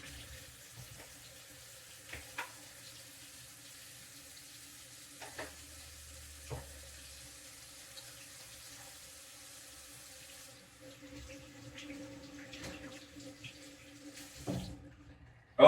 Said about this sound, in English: All right, wash the hands.